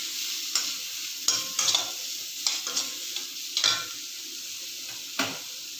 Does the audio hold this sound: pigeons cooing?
no